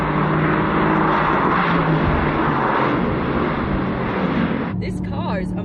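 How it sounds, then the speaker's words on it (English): Mercedes AMG car driving, a steady loud engine and road roar throughout, with excited voices briefly breaking in near the end. "This car is amazing."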